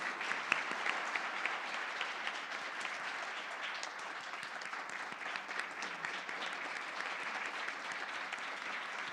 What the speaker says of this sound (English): I would like to give a huge round of applause to our outgoing mayor and council member